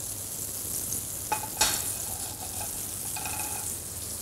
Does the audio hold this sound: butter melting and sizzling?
yes